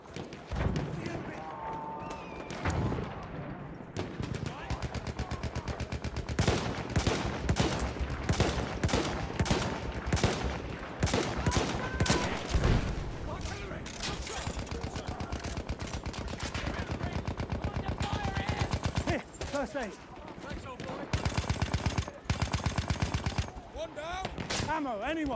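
Battlefield 1 gameplay with continuous rapid gunfire and bursts of automatic fire, including some distant sniper shots, under near-constant excited talk between players.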